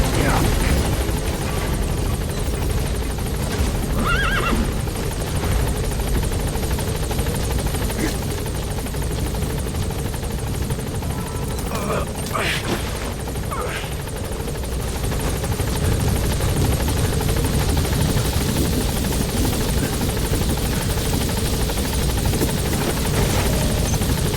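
A helicopter in the video game Metal Gear Solid 5 drones with a loud, continuous rotor roar, and radio chatter is heard over it.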